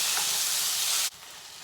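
Onion, garlic and chopped tomato sauté in a pan for a Kongu-style village fish curry, a loud, close, steady sizzling hiss that drops abruptly quieter partway through, followed by a brief stirring clatter.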